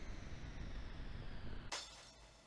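Glass shatters in the video game Ghost Trick, a single sharp crash over a steady background of game sound, with fragments trailing off briefly afterward.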